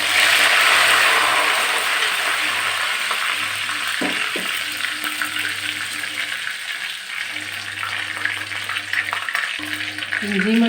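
Curry leaves and dried chillies sizzle and crackle in hot coconut oil in a pan, a continuous close frying hiss with a few stirring clinks and no talk.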